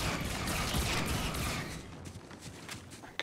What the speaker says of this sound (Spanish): Escucho balazos, pero ¿de dónde vienen?